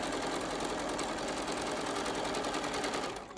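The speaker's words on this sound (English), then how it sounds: "And then I just continue down, stitching until I get to the end." A sewing machine stitches binding onto a fabric mask in one continuous rapid run, a close, steady whirring hum that slows and stops right at the end.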